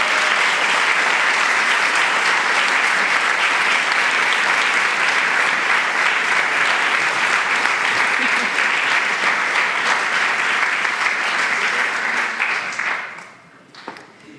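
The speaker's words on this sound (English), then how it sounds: "shall we give Charmaine again a warm applause?" An audience gives loud, steady applause after a talk on sex and disgust, holding a dense, even roar of clapping for about twelve seconds before it quickly dies away.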